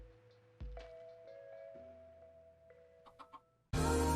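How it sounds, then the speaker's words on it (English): Minecraft chicken clucking, a few short clucks in a quiet game scene, with a louder burst of noise cutting in at the end. "What's this chicken's name? That chicken's name is Florence."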